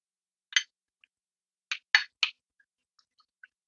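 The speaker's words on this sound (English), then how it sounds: "just kind of breaking it up with a spoon so that it doesn't take a super long time to" A spoon breaking up and stirring semi-solid shea, mango and cocoa body butter in a bowl: a few sharp, close clinks and taps, some clustered together, with quiet gaps between.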